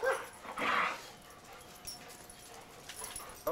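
Dogs behind a gate on a snowy day whimper and whine softly in a short high-pitched burst, then fainter yips follow in a quiet setting.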